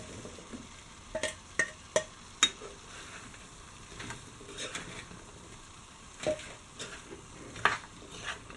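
Fried fish pieces stirred into boiling vinegar masala for a Kerala fish pickle, with a spoon scraping and clinking against the pan in scattered taps over a soft, steady sizzle.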